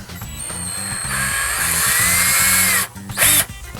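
A power drill fitted with a 5/32 bit bores small holes into the top base of a plastic weed eater housing, its whine rising and holding steady for several seconds before a brief stop and a short final burst, close and loud.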